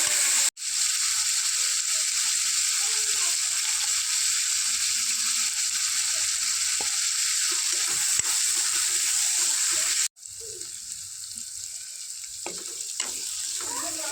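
Garlic, onion and washed ingredients with spices sizzle steadily in hot oil in a pan for a fish and field-bean dal, a continuous close frying hiss with a brief break and occasional stirring clicks.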